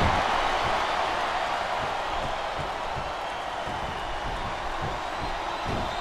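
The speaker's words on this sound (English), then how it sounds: "Wow, listen to that chant." Video game wrestling crowd in Smackdown vs Raw roars in a steady, dense wash of arena noise, a loud continuous chant-like din with rhythmic swells throughout.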